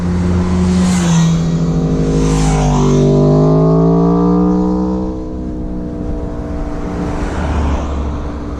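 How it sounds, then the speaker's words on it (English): Cars pass on a mountain road near El Portillo, the engines loud and close as they swell and sweep by with a falling pitch, followed by a steady lower whoosh of further traffic. "It's not often you see that much traffic all at once."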